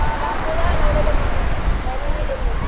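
Strong wind buffets the microphone at Chowpatty beach in Mumbai, a constant low roar with rumbling gusts, and a voice talks faintly underneath.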